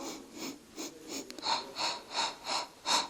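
Slow, rhythmic breaths during a lower-body Pilates exercise with a resistance band, about nine soft, airy inhales and exhales repeating at an even pace, close and quiet with no talking.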